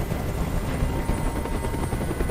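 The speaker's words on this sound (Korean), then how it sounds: "Tell that helicopter to get out of here!" Helicopter hovering in the video game Detroit: Become Human, a steady dense rotor roar that stays loud and close throughout with no talking.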